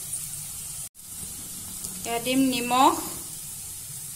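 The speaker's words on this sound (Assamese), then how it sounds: "জলকীয়া দুটা এখিনি মই ভাজি লম" Two chillies sizzle in hot oil in a home kitchen as an Assamese fish curry is cooked, a steady hiss beneath a person speaking briefly.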